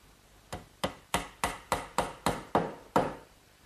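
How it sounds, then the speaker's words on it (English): Nine sharp, evenly spaced hammer blows drive wooden dowels into a clamped kitchen work table joint, each strike ringing briefly before the next in a steady rhythm, with no voices. "Now I'll just pin it in place with a couple dowels."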